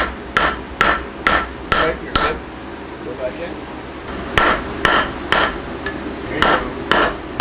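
A power hammer forges hot steel on an anvil in sharp, regular blows, first a run of five, then a pause, then another steady run of strikes, while a man gives brief instructions.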